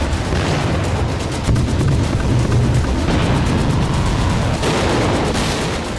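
Missile explosions in a conflict between Israel and Iran, heard as a loud, continuous wall of booming rumble and crackling blasts that runs without a break and has no talking over it.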